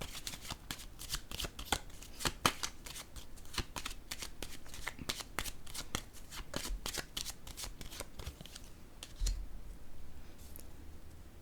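Tarot cards handled and laid down on a table, a long run of crisp close shuffling snaps and flicks, with a soft thud near the end and the room quiet afterward.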